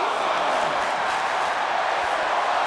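Video game wrestling match crowd, a dense continuous roar of cheering that holds at a steady loud level throughout without breaks.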